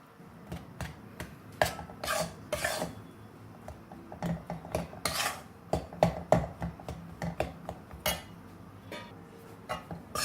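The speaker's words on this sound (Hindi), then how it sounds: "तो ऑयल हमारा गर्म हो चुका है, इसमें हम डाल देंगे आटा। अब इसे हम भूनते जाएंगे।" Wheat flour roasts in hot oil in a pan for Sindhi Satya Narayan churan while a utensil stirs it steadily, making close, frequent metallic clinks and scrapes with no talking.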